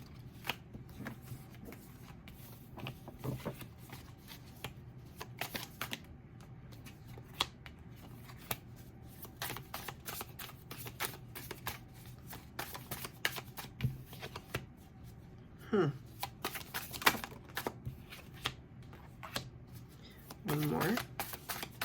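Tarot cards shuffled by hand for a reading: a long run of soft, rapid riffling flutters and crisp card snaps, close and fairly quiet, with scattered sharper slaps, under intermittent talking.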